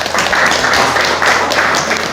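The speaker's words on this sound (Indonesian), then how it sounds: "Tepuk tangan untuk kelompok 1." A classroom of students claps for group one, a loud, dense burst of many hands that swells in waves for about two seconds before stopping.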